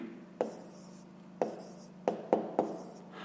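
A pen writes a fraction on paper in a few sharp, close strokes and taps, spaced irregularly over a quiet background.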